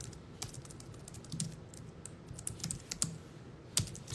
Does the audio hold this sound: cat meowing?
no